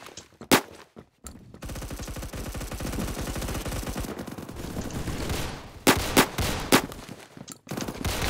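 Rapid automatic gunfire from Roblox Phantom Forces, with dense, loud bursts of shots running almost without pause and a few sharper isolated cracks near the start and end.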